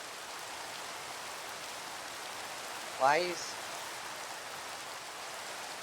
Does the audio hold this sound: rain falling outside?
yes